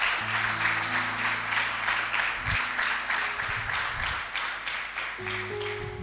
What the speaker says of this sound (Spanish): Yo creo que es un buen momento para darle un aplauso al Señor.